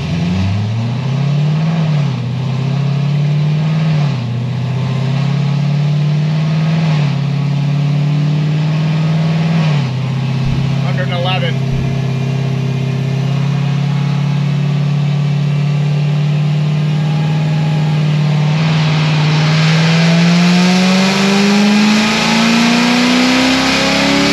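A 1000 hp Corvette C7 Z06 engine runs steadily up close, its loud rumbling idle wavering with small blips before the revs climb smoothly near the end.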